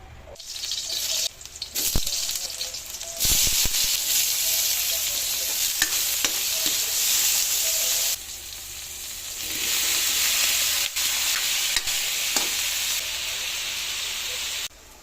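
Shrimp and sweet corn stirred in a hot pan, a loud continuous sizzle and hiss with scraping strokes and brief pauses as the mixture is moved around.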